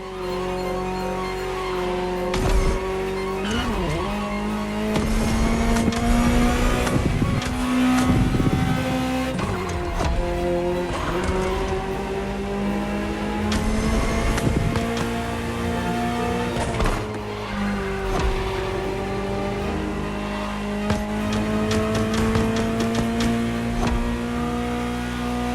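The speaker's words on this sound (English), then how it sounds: "Just listen to the car you're driving." Ferrari supercar driven in the racing game The Crew Motorfest, its engine revving and changing pitch through repeated gear shifts and acceleration, with brief tire squeals, loud and continuous for the whole stretch with no talking.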